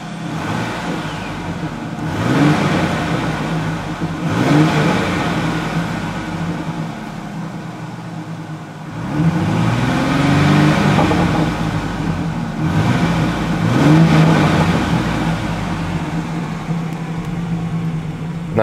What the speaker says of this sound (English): we'll give her a few revs.